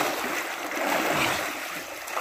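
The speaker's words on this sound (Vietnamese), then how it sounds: "Suối ở đây rất là trong các bạn" Clear mountain stream flowing steadily, a bright continuous rush and babble of water filling the scene at close range with no voices.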